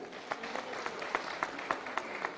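Audience at a Telangana marriage bureau mediators' awards event clapping, a steady patter of many hands with a few sharper claps standing out, moderately distant and continuous.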